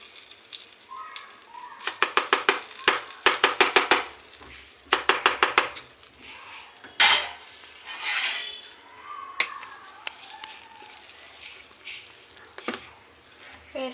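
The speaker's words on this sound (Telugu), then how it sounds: "వేసుకుని బాగా మిక్స్ చేసుకుందాం" Ingredients being mixed into a homemade chutney in a bowl, with bursts of rapid clinking and scraping strokes in quick rhythmic runs, close and fairly loud, followed by softer scraping and a few brief sounds.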